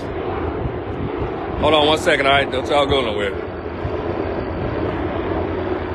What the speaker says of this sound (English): This airplane is loud.